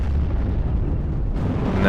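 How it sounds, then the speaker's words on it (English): Artillery fire in the WWII game Steel Division: Normandy 44, a dense rumbling barrage of low booms running continuously and loudly through the whole stretch, with a voice talking over it. "There's also artillery coming in now on top of that AT gun"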